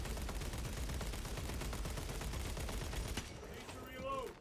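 Rapid gunfire crackles in a dense, continuous burst during a co-op fight in Warhammer 40K Space Marine 2, then cuts off abruptly, leaving quieter game effects and faint chirping tones.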